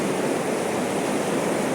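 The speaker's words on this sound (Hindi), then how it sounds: "ये जो बीच वाली लाइन है वो बहुत तेज़ बहाव है वहाँ पे" Strong, fast-flowing water at a waterfall at Maldevta, a dense, steady roaring rush, loud and close throughout the short moment, with no voices.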